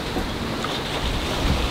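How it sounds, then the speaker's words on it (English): Big ocean waves and wind roar steadily around a monohull sailboat far out at sea on a Pacific crossing, a continuous close wash of surf and gusting air with no voices. "what I did film was the biggest waves we've seen so far."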